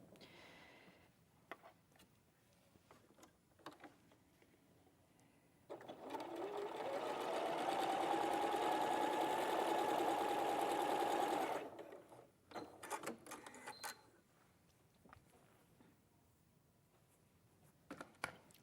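A sewing machine runs one continuous stitching burst of about six seconds, steady and fairly close, starting and stopping abruptly, with quiet room sounds and faint handling noise before and after.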